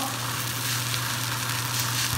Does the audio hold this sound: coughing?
no